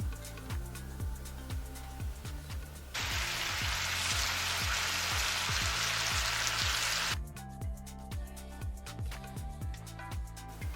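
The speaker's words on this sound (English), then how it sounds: "I just do a quick pan fry on these, and then we'll set them aside to add into the noodle salad." Marinated shrimp pan-fry on medium heat, giving a loud, steady sizzle for a few seconds in the middle, with quieter pan noise before and after and background music throughout.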